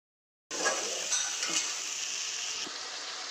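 Potatoes frying in hot oil in a pan for a thin rohu fish curry: a steady, loud sizzle begins abruptly and continues throughout, with a few stirring scrapes and clinks.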